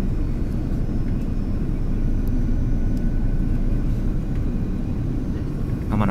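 Steady, loud low-pitched rumble of a passenger airliner cabin during descent toward Sydney, a continuous engine and air roar with no talk over it and a few faint clicks.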